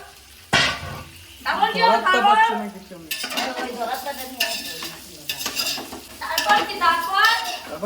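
Spoon stirring rice and lentil khichuri with Gobindobhog rice in a pot, close scraping and clinking against the metal with a light sizzle underneath, while people talk over it throughout.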